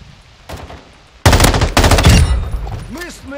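Gunfire in the video game Modern Warfare 2: a soft shot, then a loud sustained burst of automatic fire with overlapping shots, close and punchy, followed by a rising whoosh effect at the end.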